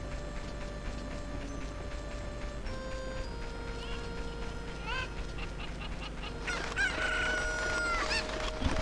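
Chickens in the Nintendo 64 game The Legend of Zelda: Ocarina of Time cluck and crow over continuous game music and ambient tones, with a busier burst of bird calls near the end.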